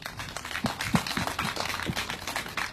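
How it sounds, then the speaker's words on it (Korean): Crowd at a candlelight rally outside a county office applauds, a continuous mid-distance patter of many hands with a few louder individual claps and little speech. "우리 그분들한테 큰 박수 한번 부탁드리겠습니다"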